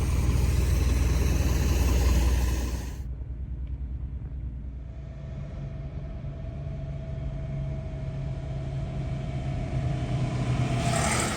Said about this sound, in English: So you can see there's a line here of trucks going to the landfills.